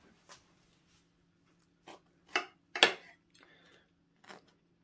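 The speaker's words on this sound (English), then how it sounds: "Cut a slice." Knife cutting a slice of unicorn cake, heard as a few soft scraping and tapping contacts, with several brief clicks and one louder scrape in the middle, in a quiet room.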